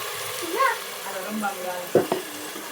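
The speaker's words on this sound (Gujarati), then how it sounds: "હવે મરચું નાખી દેવાનું મરચા લીલા લીલા મરચા સડી જાય થોડાક પછી ડુંગળી નાખી દેવાની" Green chilies and onion dropped into hot oil in a frying pan in a village kitchen, a soft sizzle with a couple of sharper crackles and stirring sounds near the end.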